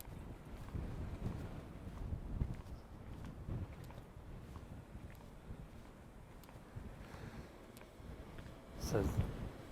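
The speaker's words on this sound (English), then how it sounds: "So it's very breezy now, so hopefully the wind's quality or the sound quality is okay." Gusty breeze buffets an outdoor microphone on East Cliffs at Ventnor, a steady low rumble rising in bursts with a stronger gust near the end.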